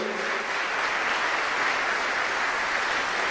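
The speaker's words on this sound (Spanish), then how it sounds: "le damos un aplauso" A church congregation applauds to honor its servants of God, a dense, even wash of many hands that holds steady throughout, moderately loud and slightly distant.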